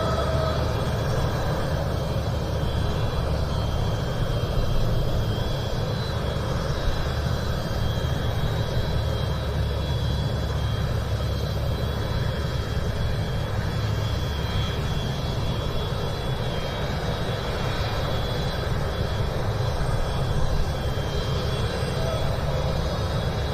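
An AH-1 attack helicopter of the battlefield support version departing an air show, a steady broadband engine roar that holds at a moderate distance throughout with no clear talk.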